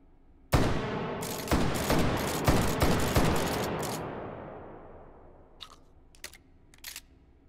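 Shotgun blasts ring out in the VR shooter Hot Dogs, Horseshoes & Hand Grenades: a loud sharp report followed by several quick shots with a long decaying echo, then faint mechanical clicks and clacks of handling.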